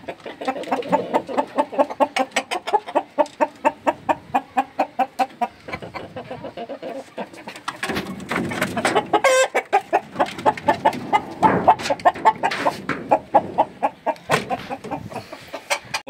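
A flock of farm chickens clucks busily while being fed, with continuous rhythmic clucking close by and occasional louder squawks over several seconds.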